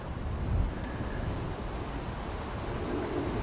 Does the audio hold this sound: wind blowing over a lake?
yes